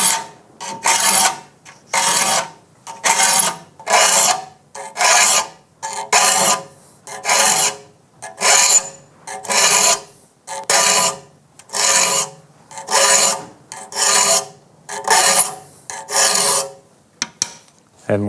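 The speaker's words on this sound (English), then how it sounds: "That is even pressure the entire length of the file and the same number of strokes." Steady hand file strokes rasping across the teeth of a rip saw during sharpening, about twenty even, evenly spaced passes, loud and close with no talk.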